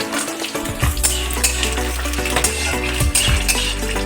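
Whole black pepper, cinnamon and cardamom fry in hot oil in a pan for mutton vindaloo, with a steady sizzle and repeated metallic scrapes and clinks of a spoon stirring, close and loud.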